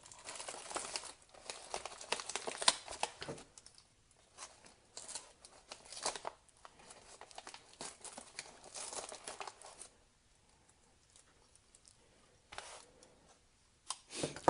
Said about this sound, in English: let's go ahead and see if I can get this box open without cutting myself here.